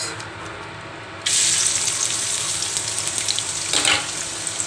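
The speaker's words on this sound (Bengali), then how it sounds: "পেঁয়াজটা একটু নরম নরম করে ভেজে নিব" Onions frying in oil in a pan for bitter gourd fry, a sudden loud sizzle that starts after a quieter opening and holds steady, with a brief brighter hiss near the end.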